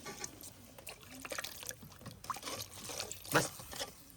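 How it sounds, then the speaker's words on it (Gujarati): Water splashes and trickles into a cooking pot while a seafood tuna dish is being made, with a brief louder gush near the end and no talking. "ચાલો ભાઈ, તો નામ દઈએ આપણે પાણી."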